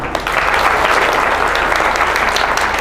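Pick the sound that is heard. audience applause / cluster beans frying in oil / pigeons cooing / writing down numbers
audience applause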